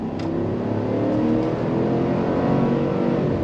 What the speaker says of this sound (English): Love the sound of that V8.